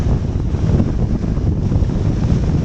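A strong east wind storm in Luderitz roars steadily against the microphone, a loud, constant buffeting rush with no pauses and no voices.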